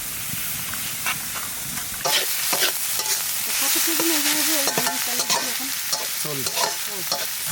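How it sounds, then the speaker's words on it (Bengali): Dry rice flour is whisked into water in a bowl with a spoon, making brisk, continuous swishing and scraping with irregular clinks against the bowl, close and fairly loud. "বাটিতে জল আর এটা হচ্ছে শুকনো চালের গুঁড়ি জলে সুন্দর করে গুলে নেব"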